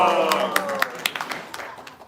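A few scattered claps from a small gathering at a devotional home program, with voices and a brief tonal chant or call, fading out quickly.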